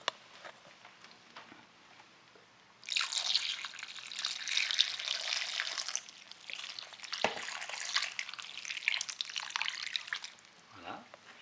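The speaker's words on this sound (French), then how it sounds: "Je vais rajouter un tout petit peu d'eau." A quiet kitchen, then a small stream of water pours into a cooking pot of pork head, throat, tongues and vegetables, trickling steadily for several seconds before stopping.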